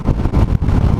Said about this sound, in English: It's very, very windy and it's very, very wet.